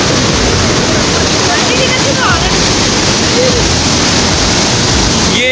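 Cold river water rushes through the Head Marala headworks near Sialkot, a steady, loud broadband roar of flowing water filling the whole clip without a break.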